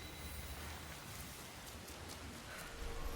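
Steady rain pours down in the video game Assassin's Creed Shadows, a dense, even hiss that holds constant throughout with no voices and a few faint crackling drops on top.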